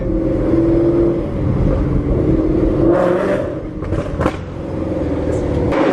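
A Ford Mustang Boss 302 V8 revs hard while driving, its loud, throaty engine rising and falling, with a few sharp exhaust pops when the throttle is lifted.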